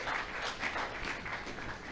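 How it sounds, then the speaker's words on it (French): A seated audience at a French-language leadership training session applauds to encourage a participant, a steady wash of many hands clapping at moderate volume throughout, with no talk over it. "Est-ce qu'on peut applaudir d'abord pour l'encourager?"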